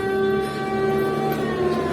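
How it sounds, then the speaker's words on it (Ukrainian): An air raid siren wails in Mykolaiv, a steady sustained tone held loud and unbroken throughout, with no speech over it. "почалася у Миколаєві повітряна тривога"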